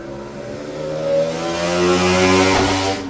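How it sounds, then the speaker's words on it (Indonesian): A car engine revs and swells as a vehicle passes nearby on the street, rumbling louder toward the end before fading slightly. "berisik sekali ya rumah di pinggir jalan"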